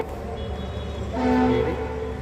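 A train rolls past with a steady low rumble, and a short horn toot rises briefly over it midway before fading back into the rolling noise.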